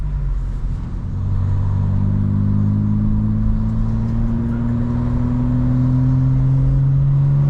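A 2025 BMW M4 Competition xDrive driving around Destin, Florida, its engine and exhaust droning loudly and steadily, with the pitch rising gradually as it accelerates from inside the car.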